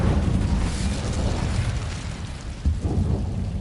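An Incendio fire spell is cast in Hogwarts Legacy, a loud, rumbling roar of flame that swells and crackles for several seconds with a deep, stormy low end and nobody speaking.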